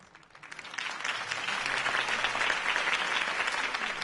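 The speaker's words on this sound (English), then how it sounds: "If only Mr. Wayne, my campaign's largest backer, could have heard that applause" Crowd applause at a campaign speech in a Batman video game for the PS4, a dense wash of clapping that swells after the first half-second and holds steady and loud to the end.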